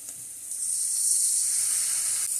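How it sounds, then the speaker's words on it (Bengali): Spices being fried in a pan for a hilsa curry give off a steady, close hiss and sizzle that swells slightly partway through and keeps going without pause. "এবার ভালো করে মশলাগুলো আমি কষিয়ে নেব।"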